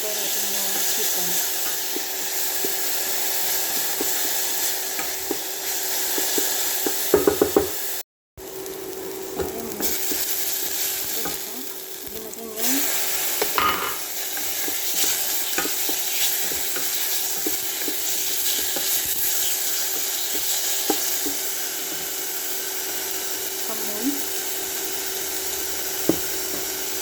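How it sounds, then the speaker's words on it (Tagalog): Onion sautéing in a pan for a home-cooked chicken lunch, a continuous loud sizzle with occasional stirring scrapes and clacks across a long stretch, briefly cut off once, without talking. "Hanggang sa mag-translucent yung onion. Tapos ilagay natin yung chicken."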